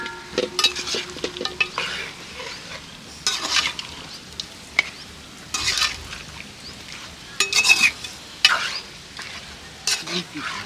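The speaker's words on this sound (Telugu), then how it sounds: "మసాలా అయితే వేసేసిన, మొత్తం అయితే కలిపేసిన." Village-style chicken fries with masala in a pan, a steady sizzle broken by repeated close scraping and clattering stirring strokes in irregular bursts.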